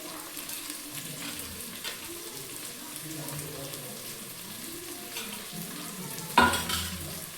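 Mint and coriander leaves, a handful each, going into a chicken biryani pot, with a soft steady sizzle and light stirring, then a sharper scrape of the spoon near the end.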